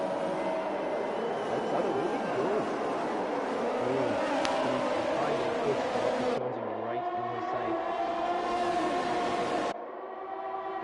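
Race cars launch off the grid at Imola in a racing video game, a dense layered roar of engines revving and shifting at mid distance, steady and loud with abrupt cuts late on.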